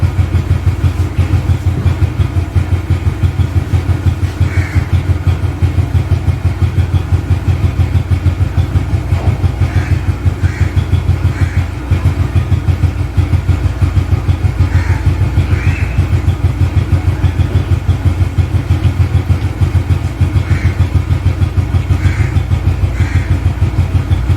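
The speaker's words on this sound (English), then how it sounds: "I will starting the engine first" A motorcycle engine runs steadily at close range for the whole stretch, a continuous low mechanical drone with a few faint higher chirps over it and no voices.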